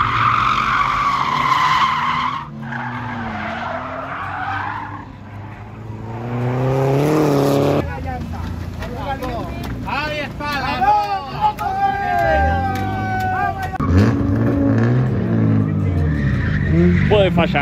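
A front-wheel-drive Honda drift car slides on the handbrake at a drift event, tyres squealing and skidding in long loud bursts over engine noise, while people talk and a crowd murmurs nearby.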